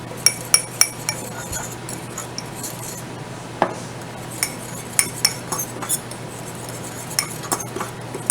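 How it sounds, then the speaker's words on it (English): A spoon stirs a dry homemade chicken Rice-a-Roni mix with chipotle chili powder in a container, giving a string of sharp metallic clinks and taps at irregular intervals over a low steady hum. "We'll give this a little stir."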